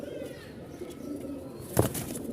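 White domestic pigeons at a pigeon market, cooing softly and steadily at close range, with a brief louder rustle near the end, no talking.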